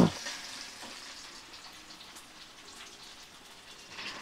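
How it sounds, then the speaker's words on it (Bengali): Chopped onion sizzling in hot mustard oil with whole cumin seeds, a faint steady crackle after a brief clatter at the start, with no talking. "তো দেখো আমি সর্ষের তেলের মধ্যে গোটা জিরে দিয়ে এবারে পেঁয়াজ দিয়ে দিলাম।"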